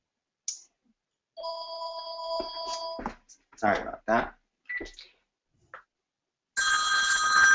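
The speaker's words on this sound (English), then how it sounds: "Forgot to turn off my phone." A mobile phone rings loudly in bursts of electronic tones during a travel talk, and someone speaks briefly between the rings before the ringing returns.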